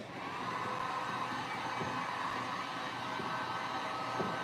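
Hair dryer blowing on a stencilled base coat on a fireplace hearth, a steady, close, loud whooshing roar that holds constant throughout.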